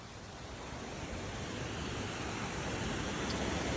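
Continuous rushing water of a creek flowing into Simpson Creek in Harrison County, West Virginia, a steady broadband flow, faint and unbroken with no voices.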